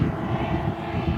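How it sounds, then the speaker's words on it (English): A warbird propeller plane drones loudly overhead, flying slowly at an air show, a steady low engine rumble with no voices. "absolutely amazing how slow this airplane flies."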